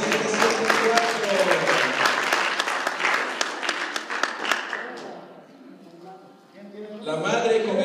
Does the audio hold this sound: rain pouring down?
no